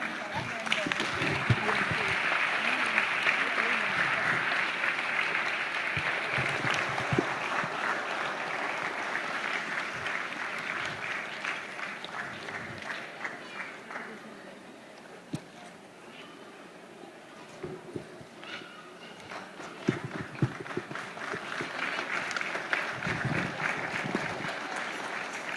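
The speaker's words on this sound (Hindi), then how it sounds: "तालियां बहुत धीरे बजी है, बहुत जोर से होने चाहिए।" Applause from an audience at a Navaratri puja seminar, a broad sustained wash of clapping that dips midway and swells again, with a voice speaking over it at times.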